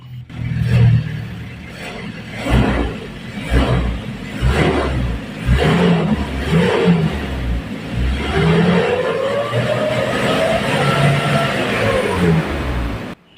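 Kia Bongo 3.0 diesel engine running at low RPM after an injection pump adjustment, a close, rough idle with throbbing clatter and a few gentle revs rising and falling, no talk over it.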